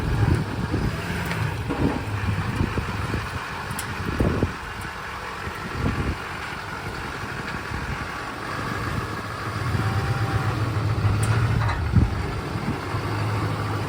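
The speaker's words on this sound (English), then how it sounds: "Turbo sounds good." Twin-turbo Duramax diesel truck idling with a steady low rumble and faint turbo whine, wind buffeting the mic and occasional knocks, with no talking.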